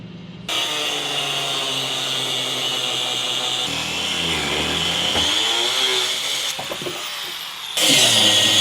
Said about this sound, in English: we have resorted to taking a grinder and cutting them off because they're too rusted in